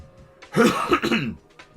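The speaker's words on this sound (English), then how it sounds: "I'm tired of having this slight cough because of the weather." A single close throat clear that breaks into a short rough cough, then quiet.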